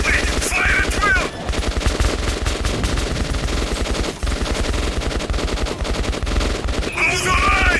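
Sustained machine gun fire from the video game Metro 2033 Redux, a dense rapid burst of loud shots running almost the entire time, with a brief dip midway and shouted voices faintly mixed in.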